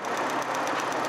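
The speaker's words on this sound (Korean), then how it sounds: "엔진 소리 한번 들려드릴게요." Kia Opirus large sedan engine idling with the hood open, a steady, fairly loud broadband hum with a faint rhythmic valve ticking running through it.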